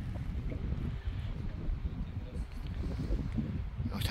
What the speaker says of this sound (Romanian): ce vânt bate